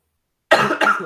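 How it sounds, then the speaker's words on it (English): A single short, close cough bursts out after a moment of silence, a harsh double-pulsed hack lasting about half a second. "Got a cough."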